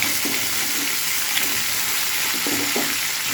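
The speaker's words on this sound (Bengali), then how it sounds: "এইভাবে সব কাঁকড়াগুলো ভাজতে দিয়ে দেবো।" Cleaned crabs frying in hot oil for a crab masala, producing a loud continuous sizzle with faint stirring knocks and no talking.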